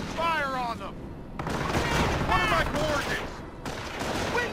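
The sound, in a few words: gunfire in Company of Heroes video game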